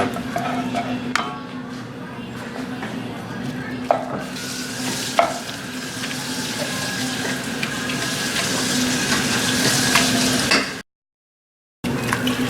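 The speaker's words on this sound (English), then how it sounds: "Just got to kind of stir that cream cheese around, melt it with the meat" Softened cream cheese being stirred and melted into cooked meat in a pan for a taco soup, with steady sizzling and intermittent scraping of a utensil against the pan, then a brief silence.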